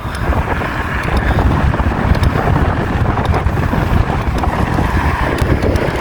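Strong wind buffets the microphone during a bicycle ride in a steady, loud, continuous roar with low rumbling gusts throughout.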